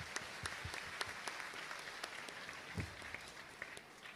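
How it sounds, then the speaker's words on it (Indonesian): Audience clapping at a live Islamic religious gathering in Brangsong, Kendal, a steady dense patter of many hands with a few sharper claps, moderately distant and with no talk over it. "Tepuk tangan buat Al-Fadlu Wal-Fadilah."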